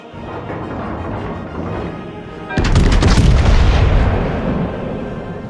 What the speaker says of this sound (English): I could get addicted to that gun noise very easily. It's a sort of boom with a crack to it.